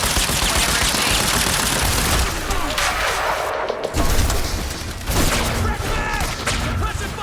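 Sustained automatic gunfire from a firefight in the video game Quantum Break, dense bursts of rifle shots with booming impacts, loud and continuous, with a short lull near the middle.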